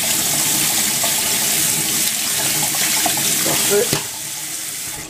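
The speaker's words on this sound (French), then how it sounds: "on va les égoutter et on va les rincer. On les passe sous l'eau abondamment." Soaked chickpeas rinsed under a strong, running kitchen tap, a loud continuous rush of water close by with a small clatter near the end; a voice speaks briefly.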